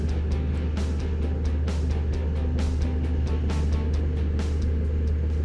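A vehicle slowly tracks back and forth over freshly spread gravel to pack it down, giving a constant low engine drone with faint crunching and clicking from the tires, close and steady.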